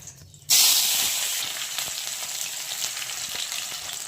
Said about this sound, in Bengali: তারপরে দেখো আদা কুচানো, টমেটো আর কাঁচা লঙ্কা এগুলো আমি একটু তেলের মধ্যে এখন দিয়ে দিচ্ছি